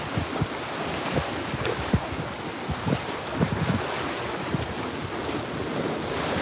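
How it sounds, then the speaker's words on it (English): Strong wind blowing outdoors, rushing steadily with loud gusty buffeting against the microphone and occasional thumps, no voices. "It's because the wind's coming from back there, so it's blowing my hair this way."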